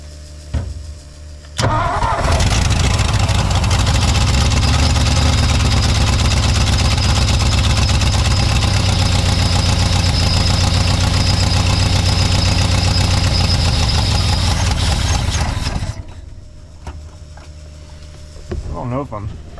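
A 1959 Ford F-600 straight truck's Y-Block engine cranks and catches at about two seconds, then idles loudly and steadily for roughly thirteen seconds before shutting off, with brief speech around it.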